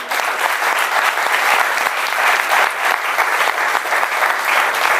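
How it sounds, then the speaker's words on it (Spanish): A church congregation at a Spanish-language service applauds in a loud, continuous burst of dense clapping that stays steady throughout, with many hands close together. "Dar un aplauso al Señor."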